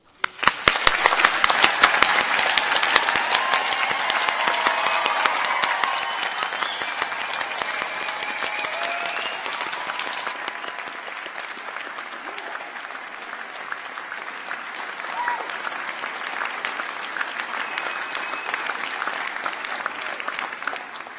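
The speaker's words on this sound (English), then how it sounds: "Please, can I ask you to join me in a round of applause?" A graduation audience gives a long round of applause at a university winter ceremony for health and society graduates. Dense clapping from a large crowd fills the hall, starts loud, then eases slightly and holds steady for about twenty seconds with no speech.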